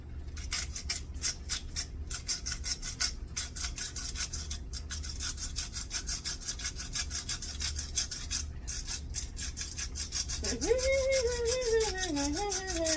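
A small pepper grinder cracks pepper over a one-pot beef stroganoff in a cramped hotel-room kitchen, a steady close rasping grind that runs without pause, with a brief higher tone rising near the end.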